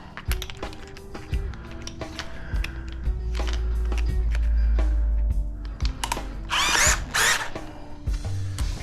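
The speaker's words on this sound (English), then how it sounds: "I think this little drill is going to have enough get up and go to" A small power drill drives a screw in short bursts, whirring up and stopping several times among clicks and handling knocks, with one longer sustained run in the middle and quick scraping rasps near the end.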